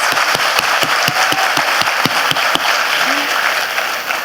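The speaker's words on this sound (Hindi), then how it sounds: "तो एक बार जोरदार तालियां अपने लिए बजा दो।" Loud audience applause in a packed hall during a motivational speech, dense continuous clapping with distinct sharp claps up close, holding steady and easing slightly at the end.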